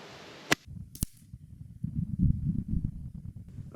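A Titan Mohawk air rifle fires at an outdoor target, giving two sharp, close cracks about half a second apart. Soft rustling and wind buffeting follow.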